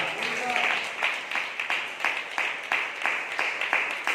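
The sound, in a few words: congregation clapping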